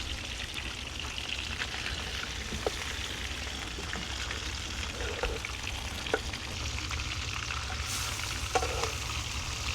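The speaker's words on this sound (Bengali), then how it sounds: "ইলিশ ফ্রাই চলছে ইলিশ ফ্রাই চলছে" Hilsa fish fries in hot oil at an outdoor riverside picnic in Bangladesh, a continuous dense sizzle and crackle close by, with occasional scrapes and pops over the frying.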